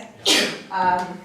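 A single loud, sharp sneeze bursts out close to the microphone during a meeting discussion, followed by a short voiced trailing breath.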